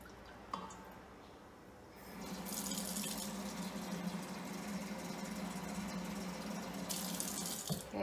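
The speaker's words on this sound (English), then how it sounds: "So I'm gonna add 2 cups of water." Water from a tap runs into a measuring cup for steaming green beans, a soft, close, continuous splashing pour with a faint click at the start.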